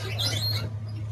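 A small bird gives a few brief, high chirps. They sound faint against a steady low hum, with no voices.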